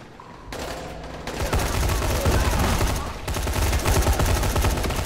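Sustained bursts of gunfire from the zombie game Dying Light, loud and dense with rapid overlapping shots that swell after a brief quieter opening and run continuously to the end.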